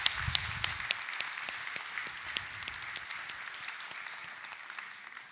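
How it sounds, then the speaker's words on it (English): Keynote audience applauding at a talk on AI and truth, quiet and somewhat distant, with scattered distinct claps over a soft, steady wash that slowly fades. "I also want you guys to give yourself an applaud for making it this far."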